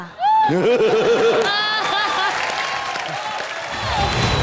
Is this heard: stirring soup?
no